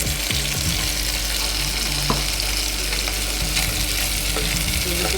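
Garlic toasting in an oil-filled pan before meat goes in, a steady close sizzle and crackle with occasional stirring scrapes, no voices.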